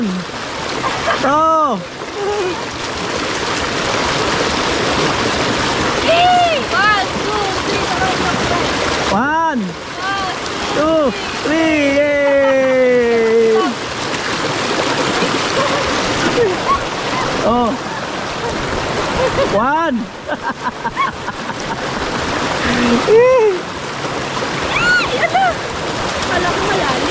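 Strong, fast-flowing stream water rushes loudly and continuously over rocks, with splashing throughout, while several people talk and shout excitedly over the roar.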